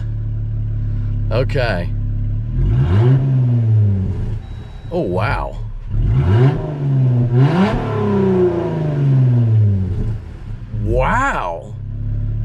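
A brand-new Jeep Gladiator with its exhaust straight-piped by sawzall, revving hard in a series of loud, rising-and-falling bursts with idle rumble between, while people react briefly nearby.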